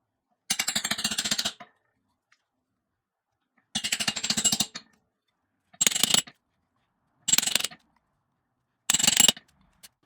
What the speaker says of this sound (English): next I'll punch out some discs. I'm using this crude punch that I made from an old piece of pipe